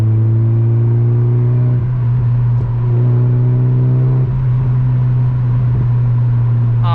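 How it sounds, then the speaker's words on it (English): Engine of a Mazda MX-5 MK2 drones loudly from inside the cabin while driving, with a steady low hum and shifts in pitch and level around a downshift into third gear. "Let's do a quick downshift into third."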